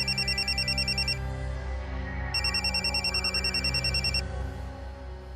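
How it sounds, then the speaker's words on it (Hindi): A telephone rings with a repeating electronic ringtone, two clear bursts of chirping tones over a steady low background hum. "ये फोन क्यों कर रहा है?"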